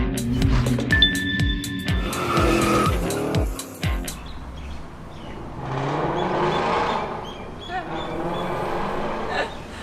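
Aston Martin's first SUV approaches, its tyres and engine rising in a swelling rush that fades and returns, after an opening run of clear chiming tones and clattering.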